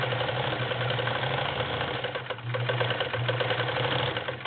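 A vintage Singer Spartan 192k straight stitch sewing machine runs continuously with a fast, even mechanical chatter and low motor hum, speed wavering slightly with the foot pedal, close and alone.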